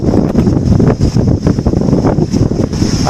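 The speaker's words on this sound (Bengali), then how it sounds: "আজকে হাওয়ার তেজ কতটা" Strong gusty wind buffets the microphone beside a river at the edge of the Sundarbans forest, a loud rumbling roar that surges and dips throughout.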